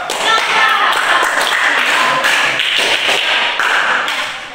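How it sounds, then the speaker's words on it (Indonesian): Classroom applause for a student, a dense burst of many hands clapping at once, held steady for several seconds before tapering off at the end. "bisa beri tepuk tangan untuk Laura"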